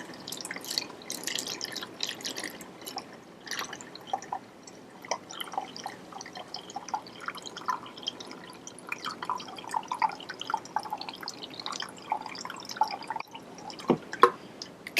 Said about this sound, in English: You can hear the water running into the balloon.